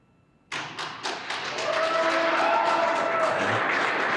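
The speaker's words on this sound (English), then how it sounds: "I don't know if you can hear the applause" Applause and cheering break out in a mission control room at the splashdown of the Crew-1 Dragon capsule Resilience, starting abruptly after silence with a few sharp claps, then swelling into steady crowd clapping.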